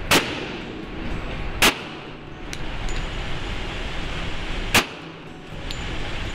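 Firearms recorded at a gun range for game weapon sounds: several sharp, loud single shots at irregular intervals ring out over a steady noisy background, each a sudden crack with a short tail.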